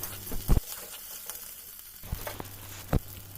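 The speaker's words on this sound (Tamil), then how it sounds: "இப்போ வெங்காயம் நல்லா வதங்கட்டும்" Whole small onions sizzle softly in hot oil, with a few sharp spoon clatters and scrapes against the pan between quieter stretches and no talking.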